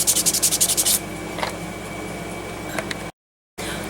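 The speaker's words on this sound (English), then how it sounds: "I'm through sanding" Rapid rhythmic scrubbing strokes of wet sanding polymer clay, about a dozen quick passes, then quieter intermittent rubbing and a short silent gap.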